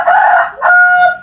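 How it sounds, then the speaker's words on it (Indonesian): Close, loud crow from a rooster, one full call whose short opening phrase breaks off before a sustained, ringing final note, with no voices over it. "Suara ayam cuy."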